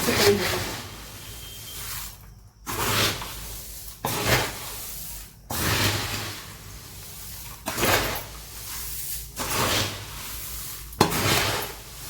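Chivda is tossed with chivda masala in a metal pan, giving repeated scraping, rustling stirs in rhythmic bursts separated by short quiet gaps, close and moderately loud.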